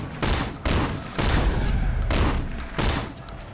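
Shotgun blasts in the open-world action video game Sleeping Dogs during a driving shootout, four heavy booming shots spaced roughly evenly apart, each with a rumbling tail, loud and close with no talk.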